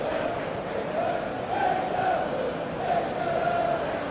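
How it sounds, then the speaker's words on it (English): Stadium crowd in eFootball PES during an England versus USA match, a steady distant roar of spectators with swelling chant-like tones rising and falling, no talk over it. "Crowd appreciates good football all round there."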